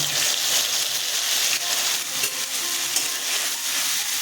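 Green chilies, nigella seeds, mustard seeds and ginger-chili paste fry in hot oil for a pumpkin curry, giving a steady, loud, close sizzle with light stirring scrapes throughout and no voices.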